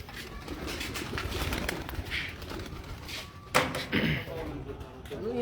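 Pigeons take off from a rooftop, a flurry of wingbeats and coos close by under steady background noise, with a sharper flap burst midway.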